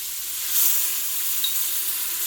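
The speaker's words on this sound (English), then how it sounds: "And we're going to saute for about 1 minute." Loud, steady hissing sizzle of diced mirepoix vegetables and garlic sautéing in a hot pot, a bright continuous frying noise close up that swells briefly then holds, with no speech.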